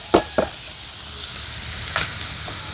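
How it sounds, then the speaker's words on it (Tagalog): Carrots and beans frying in a pan and being stirred, a steady sizzle broken by a few sharp scraping strokes of the spoon. "Halu-haluin mo, Kuya."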